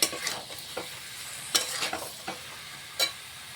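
Boiled green jackfruit is stir-fried with spices for a vegetarian jackfruit and potato curry, a soft sizzle under several crisp spatula scrapes and knocks against the pan, near and rhythmic.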